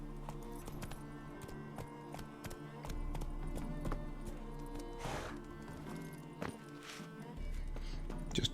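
Horse hooves clop in a steady rhythm in the video game Witcher 3, mid-level and close, mixed with light jingling tack and a low constant drone, with brief swishes and thumps between strides.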